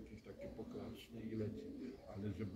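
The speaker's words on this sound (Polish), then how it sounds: "Gołąb jest tak wyszkolony, że ma tu wejść, a nie kombinować coś." A racing pigeon coos at the loft, soft repeated low warbling calls close by, with other quiet background murmurs around it.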